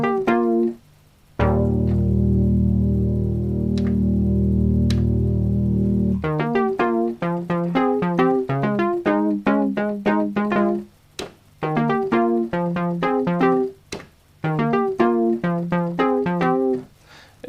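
A synthesizer patch with vibrato tied to its pulse width modulation for a tutorial. A long sustained chord comes first, then punchy, staccato pitched notes in a busy rhythmic pattern with brief gaps.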